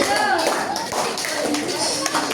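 A group of middle-school students at a school orientation session claps in a counting game, producing a few quick, close claps mixed with children's voices and chatter in a room.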